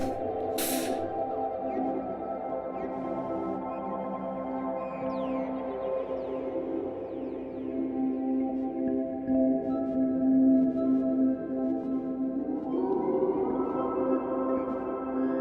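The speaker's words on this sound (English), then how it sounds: "We are on the glide setting currently on the microcosm, so you can hear it going." A Hologram Microcosm effects pedal on its glide setting produces sustained, layered tones that slowly swell and shift pitch, a smooth ambient drone heard close and alone after a brief click at the start.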